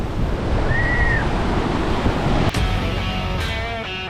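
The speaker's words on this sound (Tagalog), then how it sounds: "Ang lakas ng alon!" Strong ocean waves at Boracay roar steadily with heavy wind across the microphone, with a faint tone and a sharp click partway through.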